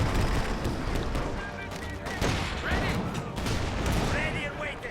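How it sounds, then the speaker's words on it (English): Infantry support guns pound away in Company of Heroes 2, a World War II strategy game, with dense overlapping booms and bursts of gunfire filling the whole stretch at close, loud range. "we're just getting pounded by these infantry support guns"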